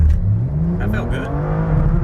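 BMW M2 on a full E85 tune with Michelin Pilot Sport Cup 2 tyres, engine revving hard under acceleration as the tyres spin up on a gear shift, loud and steady from inside the cabin while people talk over it.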